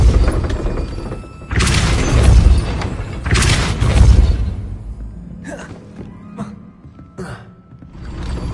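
Depulso, the force-push spell in the Hogwarts Legacy video game: two heavy booming blasts with crashing thuds, followed by a few lighter, shorter impacts and faint rumble.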